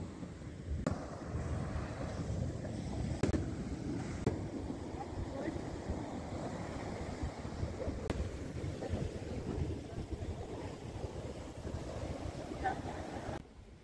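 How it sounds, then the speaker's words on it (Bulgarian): Strong coastal wind buffets the microphone at Cala Mondragó on Mallorca's Mediterranean shore in winter, a steady broadband roar with surf beneath, continuous and close with a few sharper gusts. "Пак случихме на ветровит ден"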